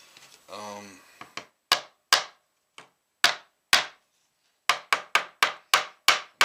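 Close, sharp hammer taps drive a stainless steel zero fret into a guitar fretboard, with single knocks spaced apart followed by a quick run of about six rapid strikes, each ringing briefly; a short voice sound comes just before.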